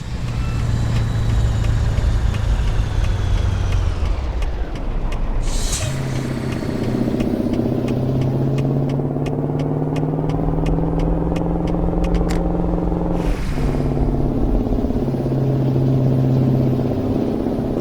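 A Peterbilt 351 truck engine idles and pulls at low revs in American Truck Simulator, giving a loud, steady rumble that climbs in pitch, drops, then rises again with brief hissing bursts.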